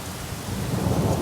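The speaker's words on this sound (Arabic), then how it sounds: "سمعوا الشتا في مراكش، الشتا والبرق والرعد" Rain falling steadily with a deep rolling rumble of thunder in Marrakech, a dense continuous wash close around the listener with the low rumble building toward the end, no voices.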